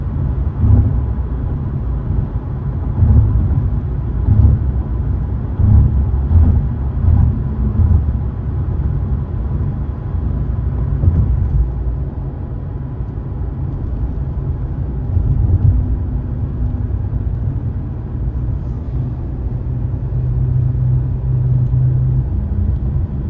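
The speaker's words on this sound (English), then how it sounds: "we are now driving past the Mobile skyline to get to the tunnel." A car drives along the road past the Mobile, Alabama skyline toward the tunnel, giving a steady low rumble of engine and tire noise heard from inside the vehicle for the whole stretch.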